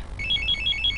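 A phone ringtone trills in a quick electronic warble, repeating its short pattern over a low background hum.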